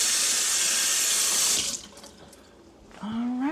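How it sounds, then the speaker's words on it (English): A kitchen tap runs strongly while hands are washed beneath it, a loud steady stream that cuts off abruptly partway through, leaving a quiet room followed by a brief squeak and rustle. "Wash our hands."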